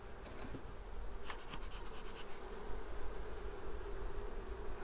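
Honeybees buzz around an open hive in an apiary. The dense, continuous drone is fairly faint, and individual bees flit close past now and then, with no speech.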